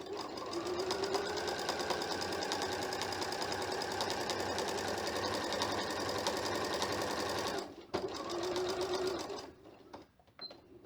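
Domestic sewing machine stitching a seam, a continuous fast rhythmic mechanical whir close up that runs about seven seconds, stops briefly, resumes for a short burst and then falls quiet.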